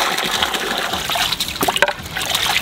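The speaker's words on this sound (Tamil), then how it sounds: "மேலே அப்படியே தண்ணி ஊத்திக்கலாம்." Water pours and splashes into a cooking pot of whole goat biryani outdoors in a village garden, a close gushing flow with uneven bubbling and trickling.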